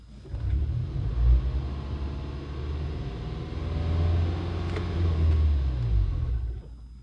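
A Toyota hybrid car accelerates as the throttle is pressed, giving a low, steady engine rumble that swells slightly in the middle and fades at the end, with no talking.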